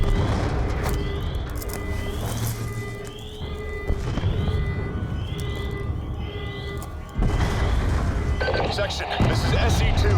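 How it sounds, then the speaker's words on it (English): Explosions in Call of Duty Black Ops 2 across a facility, a series of rumbling booms and bursts with bright whistling streaks, mixed under dense battle noise and muffled game voices for about ten seconds. "We're monitoring multiple explosions across the facility."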